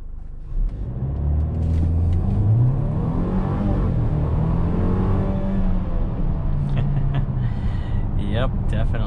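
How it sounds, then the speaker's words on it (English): A 2021 Mercedes-Benz GLC 300 SUV in Sport Plus with traction control off launches hard from a brake boost, its engine rumbling up into a loud, rising drone heard from inside the cabin. "we're gonna go ahead and brake boost this GLC 300 and see how it does"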